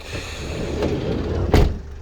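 A 2012 Renault Trafic van's sliding door rolls on its rollers, giving a brief soft rumble followed by a louder close thump near the end, heard close up with no talk.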